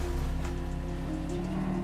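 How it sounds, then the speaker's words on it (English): Heavy rain falls as a dense, steady hiss that continues without a break, with no voices over it. "it's raining crazy over here for me"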